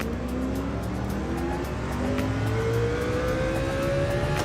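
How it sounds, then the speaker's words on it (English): Mercedes CLK race car in the Gran Turismo 7 video game, its engine droning steadily at high revs with rising and falling pitch as it races, with tire noise, no talking. "where I thought the CLK could catch up to Frank, it is not catching up with him"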